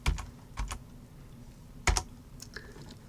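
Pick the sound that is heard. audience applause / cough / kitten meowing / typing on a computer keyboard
typing on a computer keyboard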